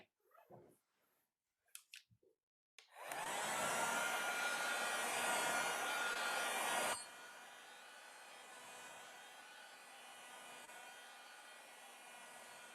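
A hair dryer blows on a craft project, starting loud and steady after a few faint handling noises, then dropping to a lower setting that keeps droning to the end.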